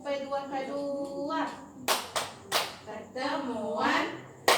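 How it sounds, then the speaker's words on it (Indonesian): A group in an Indonesian family-support training session performs the P2K2 clapping chant, sharp rhythmic hand claps in short bursts breaking up chanted group voices, fairly close and loud. "Masih ingat tepuk tangan P2K2?"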